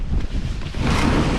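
Wind buffeting steadily across an exposed snowy winter camp site in very cold weather, a continuous loud rushing roar with no voices.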